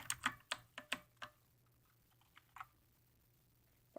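Arrow keys on a Redragon K551 mechanical keyboard are pressed about a dozen times, crisp individual clicks in a fast uneven run, then a few isolated taps, quiet and close with nothing else audible.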